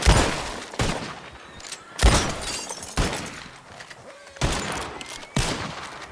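Gunshots fired at bottles in the game Preacher: The Sons of Snake Hollow, six sharp reports spaced roughly a second apart, each loud and close with a short decaying tail.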